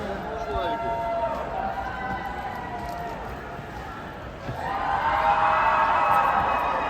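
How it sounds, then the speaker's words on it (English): Crowd at the opening of the Twin Cities Con 2025 convention, a steady roar of many voices and cheering that swells louder near the end, with voices talking over it. "if you heard the cheering. I think it is a big cheer"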